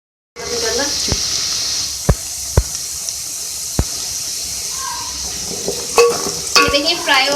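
Star anise, cinnamon and black cardamom fry in hot oil for a spicy chicken dish, giving a steady close sizzle broken by a few sharp clinks of a spoon on the pan and busier stirring toward the end.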